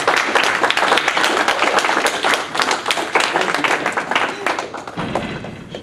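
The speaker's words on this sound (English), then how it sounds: "Let's have a round of applause for" An audience at a parish talk gives a round of sustained, lively clapping that carries nearly the whole time, then thins out abruptly toward the end.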